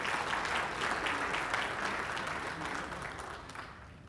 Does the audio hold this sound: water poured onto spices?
no